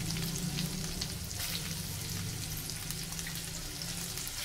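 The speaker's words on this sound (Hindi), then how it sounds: "प्याज को हमने हल्का ब्राउन करना है। हल्का सा भून लें आप।" Finely chopped onions frying with garlic in a pan, giving a steady, dense sizzle at close range without pause, with faint stirring scrapes and no voices.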